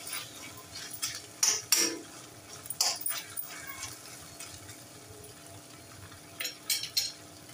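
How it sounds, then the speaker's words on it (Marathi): Chilli paneer with fried paneer and pepper powder being stirred in a pan: quiet, scattered metallic scrapes and clinks of a spoon against the pan, in small clusters separated by soft sizzling background. "छान 1-2 मिनिटं परतून घेऊया।"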